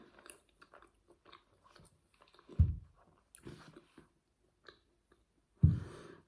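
Someone biting into a Lotus-filled Dunkin donut with biscuit, two distinct close crunchy bites followed by soft, wet chewing and light breathing, quiet between bites.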